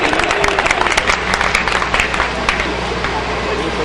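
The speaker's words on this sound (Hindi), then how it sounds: "खिचड़ी खाओ और खूब तालियां बजाओ, कृपा आ जाएगी।" Audience applause at a live comedy talk, a dense continuous wash of clapping that stays loud and steady throughout, with crowd noise mixed in.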